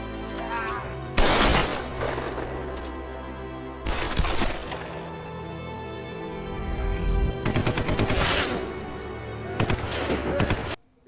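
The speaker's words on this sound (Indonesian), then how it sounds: "Terjadilah baku tembak di sana." Loud bursts of gunfire in a military shootout against zombies in a city centre, with several intense volleys of rapid shots separated by short lulls and rumbling background effects.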